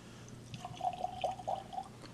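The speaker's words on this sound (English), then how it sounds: "there's a trick with these bottles. You can't pour on a level surface. You have to pick it up." A bottle of Dogmaster Distillery Double Dog Dare spirit spills and pours, giving faint irregular splashes and drips over a low hum indoors.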